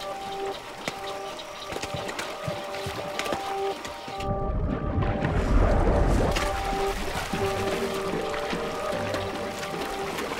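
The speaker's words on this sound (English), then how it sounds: "it's like the water doesn't just look like it's boiling, it sounds like it" River water churns and seethes with a dense mass of fish, a loud, bubbling, boiling-like roar that swells midway and carries on steadily, with no one speaking.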